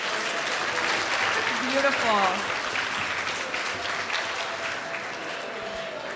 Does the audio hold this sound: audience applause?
yes